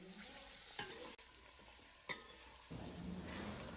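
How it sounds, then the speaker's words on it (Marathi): Finely chopped tomato cooks with browned onion in a pan for a broad bean gravy, a soft sizzle with spoon knocks and scraping, the frying growing louder and denser toward the end. "टोमॅटो मऊ होईपर्यंत शिजून द्यायचा आहे"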